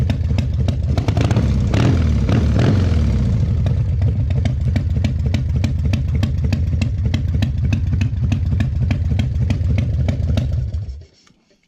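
A red 2001 Indian Scout motorcycle engine revs briefly on a cool day, then settles into a loud, close, lumpy idle with a rapid regular thumping beat for several seconds before being shut off.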